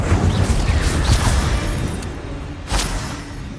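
The Incendio fire spell is cast in the video game Hogwarts Legacy, giving a loud, dense roaring rush of flame with a rumbling low end. A brighter flare bursts near the end.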